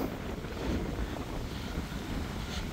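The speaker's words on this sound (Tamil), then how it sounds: "பயங்கரமான காத்தொண்டு அடிக்குதப்பா." Strong seaside wind buffets the microphone with a dense, continuous roar, steady and loud throughout with a low rumble and no voices.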